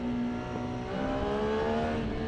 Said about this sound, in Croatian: odvrnete gas, motor se diže na zadnju